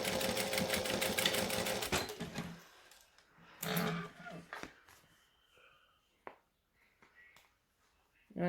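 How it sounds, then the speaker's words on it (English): A sewing machine stitches the last stretch of a bag's side seam in a steady buzzing run of about two seconds, followed by shorter bursts and quiet handling noises. "we can now sew up the last bit of this side"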